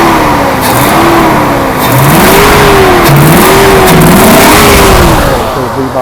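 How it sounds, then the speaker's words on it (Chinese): A Mercedes R107 500SL V8, just repaired after a fuel distributor fault, revs loudly up and down close by in repeated swells over a constant roar of cooling-fan noise. "这个 V8 的嘶吼是很可怕的"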